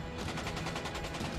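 An M240 machine gun fires a rapid, sustained burst of evenly spaced shots, loud and dense throughout the short stretch with no talk.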